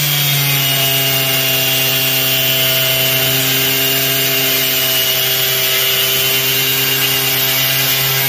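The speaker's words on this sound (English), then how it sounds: "Or if you're cutting off a piece of rebar like this," A power tool cuts off a piece of rebar at a construction test, giving a steady, loud whine with sustained harmonic tones and grinding hiss that runs unbroken and alone for the whole stretch.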